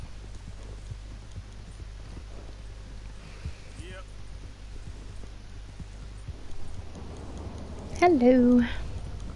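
A female horse's hooves clip-clop at a steady pace in the video game Red Dead Redemption 2, faint under a low background, with a voice speaking briefly near the end.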